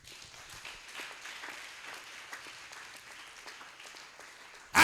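A church congregation applauds continuously in worship, a steady wash of many hands clapping at moderate distance for several seconds before a sudden loud burst at the end.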